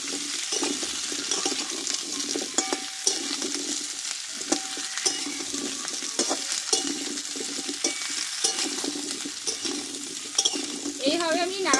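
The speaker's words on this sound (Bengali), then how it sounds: "এবার কুমড়োটা একটু ভালোভাবে কষিয়ে নেব" Pumpkin pieces stirred and sautéed in a pan for a vegetarian pumpkin dish with panch phoron, giving a steady broadband sizzle with repeated scraping stir strokes throughout, fairly close and continuous with no talking.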